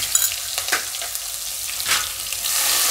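Asafoetida, crushed ginger, green chilli and garlic hit hot oil with a sharp, crackling sizzle, close up, with a few spitting bursts over a continuous frying hiss.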